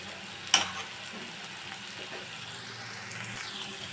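Cabbage egg bhurji frying in a pan with turmeric and salt, a faint steady sizzle with one sharp metallic clink early on, quiet and close, no speech.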